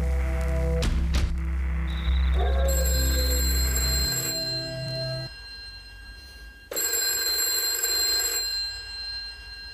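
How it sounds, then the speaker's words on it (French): Bell-like ringing in a live cinepoem performance, bright sustained tones that sound in bursts over a low droning bed, loud and alone without talk. "que sonne l'alarme."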